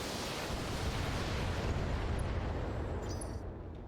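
BattleTech mech weapons firing on a target in a video game, a sustained loud roaring barrage of blasts and explosions that rumbles without pause for several seconds.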